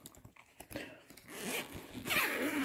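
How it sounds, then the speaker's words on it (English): A zipper is pulled open on a soft storage bin for Christmas ornaments, starting with a few scattered clicks and rustles and then running into two longer rasping zips, close up and without talk. "I'm not even sure where the zipper is"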